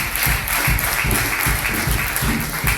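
Audience applause fills a church choir concert at a parish gathering, a dense steady wash of clapping with a rhythmic pulse of low thumps under it.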